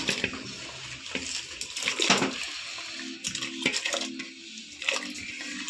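Potatoes are dropped into a pot of boiling water for aloo chips, giving splashing, clattering and bubbling water sounds that rise and fall close by, with no talking.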